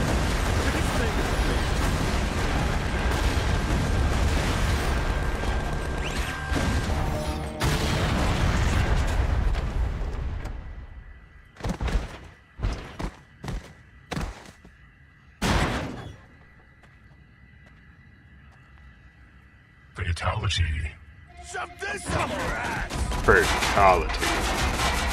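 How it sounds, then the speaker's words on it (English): Rocket machine gun fire in a Tales from the Borderlands game scene, a dense loud fusillade of booming shots for several seconds, then scattered bursts and blasts after a pause, with voices in parts. "Rocket machine gun, it's gonna be sweet."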